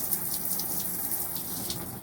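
Steady water spray hissing from an AquaPaw dog wash sprayer attached by quick connect to an RV fresh water hose, continuous and close with no talking.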